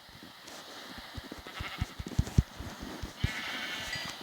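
Sheep in a video game give faint bleats over a steady background, with a run of soft, rhythmic hoof-like taps in between.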